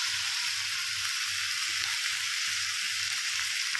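Whole garam masala sizzles steadily in hot oil, a continuous close hiss with a faint rhythmic low thumping underneath and no voices.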